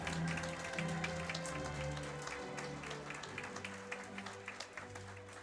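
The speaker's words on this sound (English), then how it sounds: "Let's give a big round of applause for all those dogs matriculating today." Audience applause at a service dog graduation ceremony, a steady wash of clapping with scattered sharper claps, fairly loud throughout and over a low sustained musical hum.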